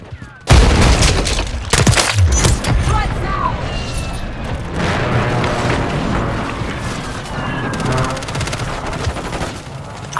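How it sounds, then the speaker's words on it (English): Precision airstrike explosions in Modern Warfare 3 hardcore mode, a sudden loud blast then a sustained roar of booms and gunfire over several seconds, with a voice talking over the din. "Friendly precision airstrike inbound."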